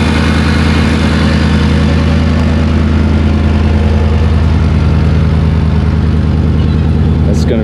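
An LS V8 swapped into a Land Rover Defender 110 idles loud and close, a steady deep lumpy rumble with constant mechanical chatter and no revving.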